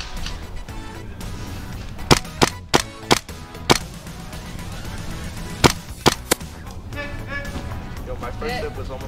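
Video game gunfire while a player zeroes a weapon: about eight sharp, loud shots in uneven clusters, some quick pairs and some lone cracks, over a steady busy game background.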